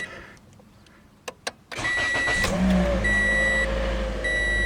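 A Toyota Corolla engine, just given a tune-up with new ignition coils and iridium spark plugs, cranks briefly and catches, settling into a steady idle close by after a few clicks.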